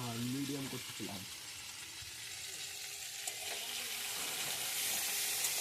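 A kitchen tap runs with a steady, faint hiss of flowing water. It starts after a short bit of talk and carries on alone to the end.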